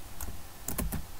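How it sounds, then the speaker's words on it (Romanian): Computer keyboard typing and clicking during a playthrough of the horror game The Witch's House: a few separate clacks, then a quick cluster of three or four keystrokes, close and fairly quiet, with no voice. "Îmi cer scuze pentru sunetele așa de click sau de tastatură"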